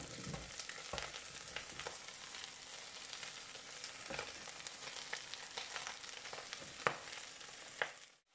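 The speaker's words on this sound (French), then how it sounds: "On fait bien roussir les têtes de gambas à l'huile d'olive à feu vif" Prawn heads fry in olive oil over high heat, a faint continuous crackle and sizzle with scattered light pops and a couple of sharper utensil clicks near the end, heard alone without voices.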